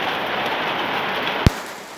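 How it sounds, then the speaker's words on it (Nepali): Hail falls with rain in a storm, a dense, even hiss of pelting drops broken by one sharp, loud impact near the end. "बल्ल बल्ल अहिले भर्खर असिना परेको छ"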